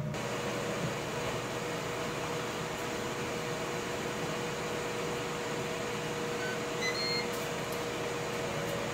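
A Ninja Foodi Smart XL Grill hums steadily while preheating, a constant fan-like whir with a faint tonal drone and an occasional soft beep, close and unbroken throughout.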